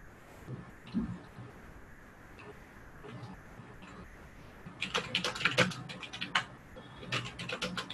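Rapid keystrokes on a computer keyboard, clicking in a dense burst during the second half of the stretch after a quieter start, fairly close and moderately loud.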